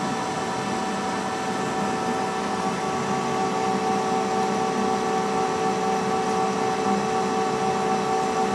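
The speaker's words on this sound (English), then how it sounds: "You can hear the lathe working, but it's not struggling, it's just doing what it's supposed to do." A vintage metal lathe with a lantern tool post turning at 200 RPM and taking nearly a quarter inch off, a steady, even mechanical hum with constant tonal whine that never labors, continuous and moderately loud.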